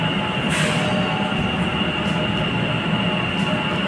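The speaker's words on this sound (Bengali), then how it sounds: "ঘুরতে ঘুরতে মেট্রো চলে এলো।" Kolkata's East West underwater metro train at a station, a steady loud rumbling roar of the carriages with faint wheel squeal and brief hissing bursts throughout, no voices.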